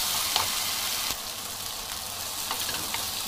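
A spice paste for sambal bacang, with belacan, salt and lime juice, sizzles and fries steadily in hot oil at close range, with faint stirring scrapes and no talk.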